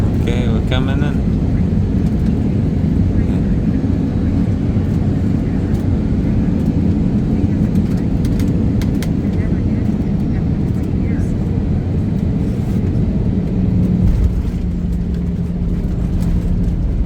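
Steady, loud engine roar inside an EgyptAir airplane cabin during landing approach, a constant low drone throughout that shifts in tone near the end, with a voice talking faintly over it.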